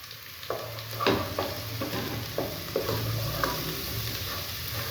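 Ginger garlic paste fries in a pan over light-brown onions for palak gosht, giving a steady sizzle broken by repeated scraping and clinking stirs from a spoon.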